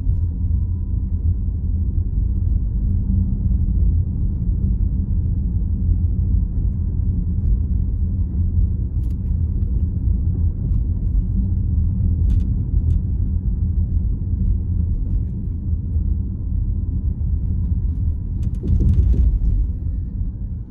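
Steady low rumble of road and tyre noise inside a refreshed Tesla Model S cruising at about 20–25 mph, continuous and even throughout with no talk, plus a few faint clicks near the end.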